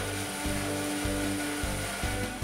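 A Felder N4400 band saw cuts wooden chair parts upright, giving a steady, continuous machine drone marked by regular rhythmic pulses, with no voices.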